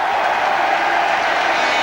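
A large crowd packed into Charleroi Stadium ahead of a 1996 Paris Saint-Germain versus Leeds football match, giving a steady, dense roar of many voices that holds level throughout without breaks.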